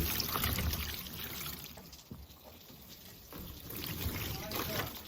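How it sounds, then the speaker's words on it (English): Water is poured over a deer skull being cleaned for a European mount, rinsing away soap bubbles, a steady close splashing trickle that dips briefly midway and then resumes. "pour some water on it to wash all the bubbles away"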